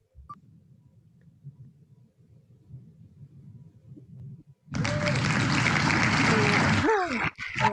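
A burst of recorded applause, a dense clapping crowd sound effect, rises suddenly after a wheel of fortune spin during an online book launch and runs for a few seconds, loud and close, after quiet murmuring.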